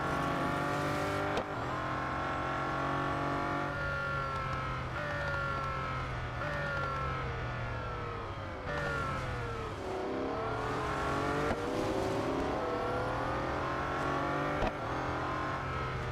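A race car in Real Racing 3 holds a steady, loud engine drone throughout, rising and falling in pitch through repeated gear changes and revs on the circuit, with no voices over it.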